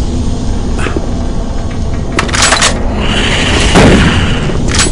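Deep, booming gunshots and blasts in Doom 3 over a dense, loud background rumble, with a couple of heavier impacts standing out midway.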